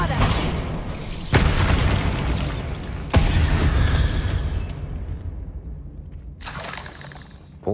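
A Bombarda blasting spell in Hogwarts Legacy bursts with a sharp, loud shattering boom, followed by a second blast and rumbling debris that fades to quiet, with a voice heard beforehand.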